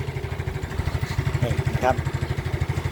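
A small Yamaha Mio Fino scooter engine, started with the choke after sitting unused for a long time, idles with a steady, rapid putter close by, while someone speaks briefly over it.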